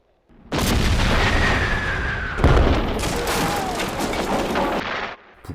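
Union army cannon fire in a western film: loud, deep booming blasts with a heavy rolling rumble lasting about five seconds, a second blast striking midway, then an abrupt cutoff.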